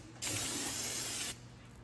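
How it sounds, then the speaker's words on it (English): Silicone sealant squeezed from a tube around the differential cover of a 2012 Dodge RAM 1500 5.7L during a rear axle service, a single steady hiss lasting about a second, close and fairly loud. "And silicone on right now around the pan, or around the cover, I guess"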